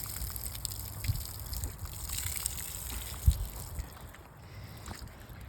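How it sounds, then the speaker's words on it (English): A deer hide being hand-rinsed in a container of water, with soft sloshing, gushing and dripping as it is swished and lifted, close by and fairly quiet, with a few sharper splashes. "wring it out."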